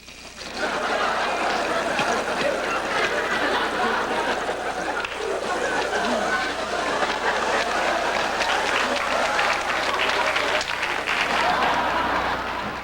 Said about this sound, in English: The audience is applauding a little bit